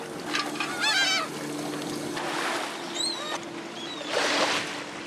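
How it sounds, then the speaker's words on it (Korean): Seagulls gather around a sand lance fishing boat off Sokcho and call repeatedly in loud and fainter squawks over the drone of the boat's engine. "이 갈매기가 많이 모여드네요"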